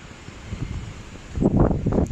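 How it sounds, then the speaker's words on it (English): Strong, dusty evening wind in Doha buffets the microphone as a low, rumbling roar that swells into heavier gusts in the second half. "Along with the wind, the blows of the wind is very strong."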